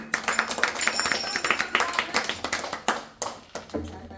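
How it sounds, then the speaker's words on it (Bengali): A group claps hands together at a Hare Krishna devotional gathering, a dense run of claps with uneven sharper bursts, fairly close, with voices mixed underneath. "তাহলে সবাই জোরে বলো হরে কৃষ্ণ, হাততালি হাততালি।"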